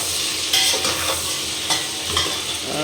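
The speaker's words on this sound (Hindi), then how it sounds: "केले को भून लेते हैं।" Banana pieces frying in a pan give off a continuous close hiss, broken by a few soft stirring scrapes, with no voices.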